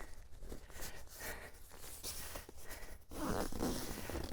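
Fabric zipper on a Sea to Summit Alto 1 ultralight tent being pulled closed, several rasping zip strokes close by, ending in a longer, louder continuous pull.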